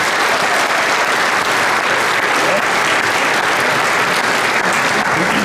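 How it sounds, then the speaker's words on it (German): Steady, dense applause from an audience welcoming a speaker at a one-day meeting, loud and continuous with no voices over it. "Einen großen Applaus für Franz Betz."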